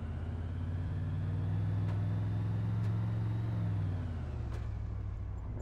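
A car engine in Arma 2 hums steadily in a low, close rumble as the vehicle pulls away, with a few faint clicks and no talking.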